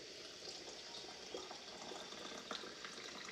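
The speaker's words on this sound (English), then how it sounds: "So I'm just going to fill each of these jars up to the 1 inch line." Hot water pours steadily into canning jars for pork and beans, a soft continuous trickle and splash with a couple of small gurgles, close and fairly quiet.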